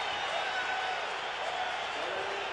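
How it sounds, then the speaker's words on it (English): Football stadium crowd at a Buffalo Bills at New York Jets game in November 2002 building up noise on third and long, a broad, distant wash of many voices that stays steady and fairly faint. "Now we hear the crowd start to warm up a little bit as they look at this 3rd and long"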